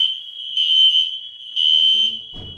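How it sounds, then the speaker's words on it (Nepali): Dormitory fire alarm at 3 AM, a piercing high electronic tone sounding in repeated pulses, loud and close, with faint murmuring voices near the end. "यहाँ चाहिँ फायर अलार्म बजिरहेछ"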